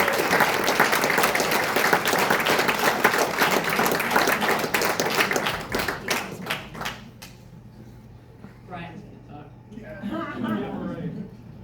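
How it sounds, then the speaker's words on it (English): Applause from an audience at a workplace milestone ceremony, loud and dense for about seven seconds before thinning into scattered claps, with a voice speaking over the fading end. "please give him a round of applause."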